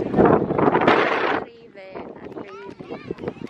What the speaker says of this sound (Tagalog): Oh my God, ang hangin. Hindi ako maririnig.